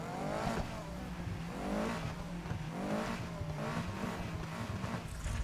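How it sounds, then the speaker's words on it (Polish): A car engine in the racing game Need for Speed Heat revs up and down in repeated rising sweeps, a continuous loud growl close up with no speech. "Mogę włączyć silnik chyba."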